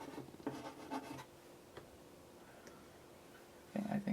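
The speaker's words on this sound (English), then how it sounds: "the Higgins is spreading a lot better with this exact same pen nib" Dip pen nib scratching across paper with Higgins ink, faint close strokes and scratchy ticks in short bursts, quiet throughout.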